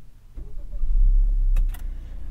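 A 2022 Acura RDX engine starts with a short starter crank swelling into a low idle rumble, followed by a couple of brief clicks near the end.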